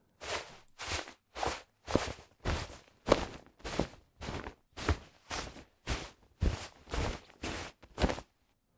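Cloth jacket Foley with an arm striking the fabric, heard as about fourteen evenly spaced soft flapping swishes, close and fairly loud, with no voices.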